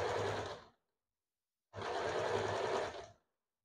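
A sewing machine stitches a double katori blouse in two bursts, one short and one longer, separated by a silent pause, running steady and close.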